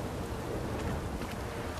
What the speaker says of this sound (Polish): Burza, psia krew.